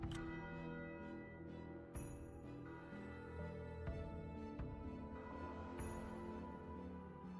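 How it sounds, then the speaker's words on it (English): Deep clock-bell chimes in the game Path to Nowhere ring out several times, each strike resonant and lingering, overlapping into a sustained metallic hum. "The clock's chimes lock the crowd in place."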